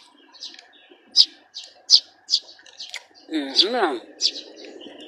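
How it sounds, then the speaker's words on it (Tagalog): Eurasian tree sparrows chirp repeatedly around a person, with sharp, evenly spaced tweets close by, while a voice briefly speaks in the middle. "Ang dami naglalapitan sa aking mga ibon."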